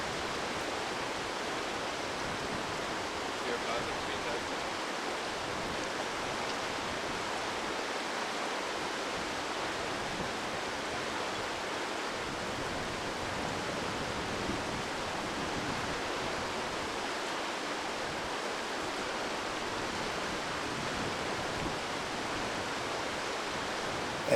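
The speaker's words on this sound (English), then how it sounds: "beautiful thundering waterfall pouring into a canyon." A huge, thundering waterfall at the outlet of a lake in the Labrador and northern Québec wilderness pours into a canyon, making a dense, unbroken roar of rushing water, steady and enveloping for the whole stretch, with no voices.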